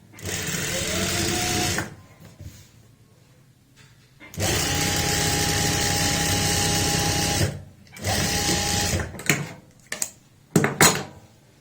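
An electric sewing machine stitches the front crotch seam of a loose palazzo with a half-inch margin, running in three close, steady whirring bursts separated by short pauses, with faint clicks of handling at the end.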